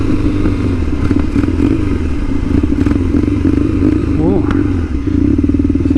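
A Kawasaki KZ750 scrambler motorcycle engine runs steadily close by with a throbbing, slightly uneven idle and mechanical clatter, while someone talks over it.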